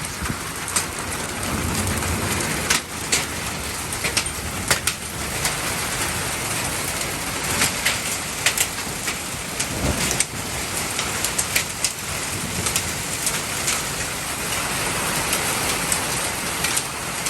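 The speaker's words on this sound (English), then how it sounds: "that is golf ball size hail right there" Heavy hail the size of golf balls pounds down steadily outdoors, a dense roar of impacts with sharper individual knocks scattered throughout, loud and continuous with no talking.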